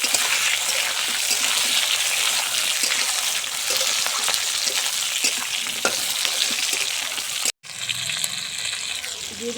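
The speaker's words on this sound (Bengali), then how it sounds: "দিয়ে দিচ্ছি কেটে রাখা কাঁচা লঙ্কা কেটে রাখা দুটো টমেটো ভালো করে কষিয়ে নেবো" Onion, potato, green chilli and tomato fry in a pan for a fish and cauliflower curry, a loud continuous sizzle with scraping stirs, briefly cut off near the end before the sizzling resumes.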